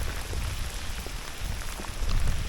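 Heavy rain pours steadily during a long walk toward a Soviet nuclear bunker in Līgatne, Latvia, a dense close hiss and patter that swells slightly near the end, with no voices.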